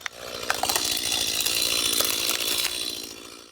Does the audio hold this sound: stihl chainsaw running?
yes